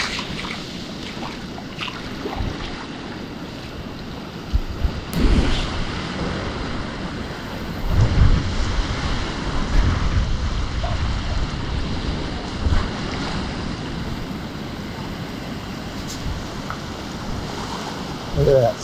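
Ocean surf breaks along a Hawaii shoreline in a steady, broad wash of rumbling waves with heavy wind buffeting the microphone, swelling in a few louder surges.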